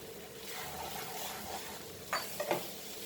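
Paneer stirred into pasta sauce in a pan, with a soft steady sizzle and a few short scraping stirs near the end.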